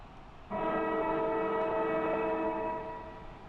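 An end-of-match siren in an Australian football video game: a sustained, loud harmonic horn blast starts abruptly and holds steady for about three seconds before easing off slightly, with no talking.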